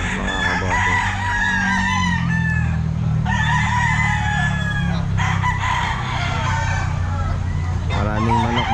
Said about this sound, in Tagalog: Magagandang manok ang nandito ngayon.